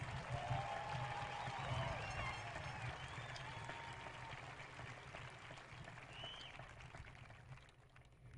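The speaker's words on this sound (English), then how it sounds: "Please give them a round of applause so they know how much it means to us." Audience applauds sheriff deputies at a high school graduation ceremony, sustained crowd clapping with scattered cheers and whistles, moderately distant, gradually fading toward the end.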